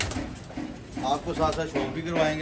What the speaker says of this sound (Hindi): अभी ये जो कबूतर है ना हमारे पास